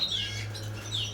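Young birds in a large two-metre breeding aviary give a couple of thin, high chirps over a low steady background hum.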